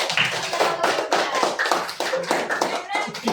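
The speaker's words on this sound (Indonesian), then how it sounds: "Tepuk tangan." A class of children claps their hands together during an Indonesian school lesson, a steady run of sharp, close claps lasting throughout, with young voices chattering underneath.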